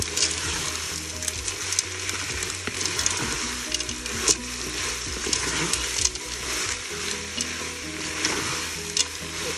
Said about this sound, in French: On va mélanger directement nos pâtes.